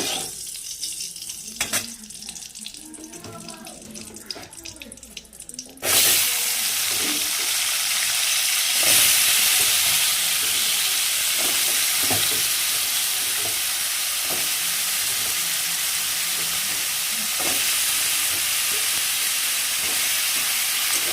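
Potatoes drop into hot oil in a kadai and set off a sudden loud, steady sizzle that keeps going with faint stirring clicks, after a few seconds of quieter kitchen sounds, and no talk.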